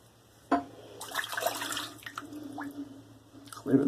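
Water trickles and drips into PAA Doppelganger Grey Label shaving soap lather, with faint splashes and a short gush near the end, quiet and close.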